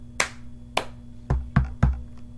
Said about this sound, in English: It goes clap, clap, tap, tap, tap